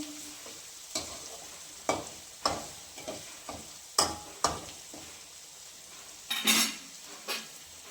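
Onions and chillies being stirred in a pan, with a spoon scraping and clinking against the metal in irregular strokes over a soft sizzle, close and fairly quiet, no talking.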